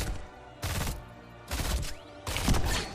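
Three loud bursts of rapid gunfire from a Marine-style skin in Heroes of the Storm, each lasting about half a second, separated by quieter background pauses.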